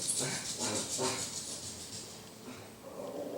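A dog barks a few times at low volume in an indoor room, short yips with panting in between, somewhat distant and faint.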